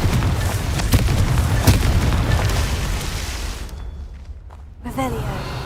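The fiery Confringo blast spell from Hogwarts Legacy bursts with deep booming explosions and scattered pops amid game ambience, fading to a brief lull before a short voice is heard.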